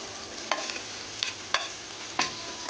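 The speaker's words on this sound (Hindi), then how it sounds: "अदरक लहसुन को भूनते हुए इसमें मैं जीरा गरम मसाला शामिल कर दूंगी" Ginger and garlic fry in a pan with cumin and garam masala, giving a soft steady sizzle broken by four sharp scraping stirs of a spoon, close and fairly quiet.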